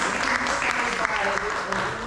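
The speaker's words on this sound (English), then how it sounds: "I want us to give her a round of applause" A concert audience applauds in a brief, dense burst of clapping that holds steady throughout, with some talk mixed in.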